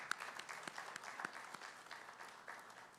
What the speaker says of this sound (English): let us please give each and every one of them a hearty round of applause